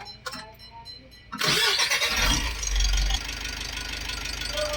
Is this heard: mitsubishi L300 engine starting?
yes